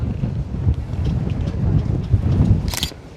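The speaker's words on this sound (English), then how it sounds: "It's crazy windy today." Strong wind gusts roar across an open street, a steady rumbling buffet against the microphone with a brief sharper whoosh near the end.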